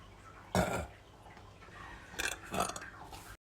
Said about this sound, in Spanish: Mi talento es eructar, pero me daba mucha pena.